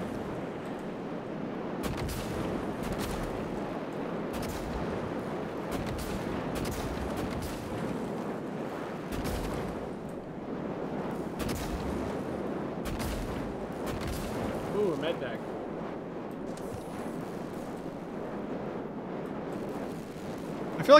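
Loud, steady roar of fire burning in a sci-fi video game, a constant dense rush with scattered sharp crackles and bursts throughout, sounding close and continuous.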